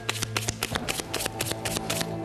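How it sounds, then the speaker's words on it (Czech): Someone shuffles a pile of chakra cards, giving quick, rapid flicks and riffles in an uneven rhythm over a sustained tonal background hum. "Zamíchejte tuhle hromádku a vytáhněte si jednu kartu."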